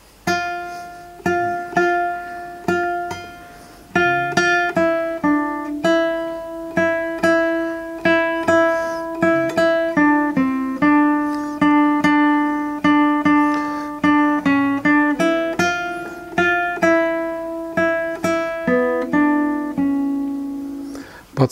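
Classical guitar plays a gentle lullaby melody in a free, unhurried 3/4 tempo, plucked notes ringing clearly over a soft low accompaniment, close and alone with no talking.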